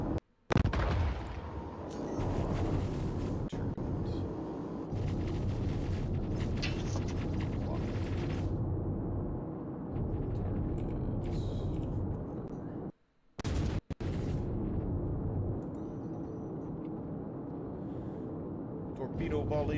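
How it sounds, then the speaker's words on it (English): Heavy naval game battle audio: booming launches and rumbling blasts from a torpedo volley fill the stretch, loud and continuous apart from a brief drop near the end, with a voice talking over it. "Torpedo volley away."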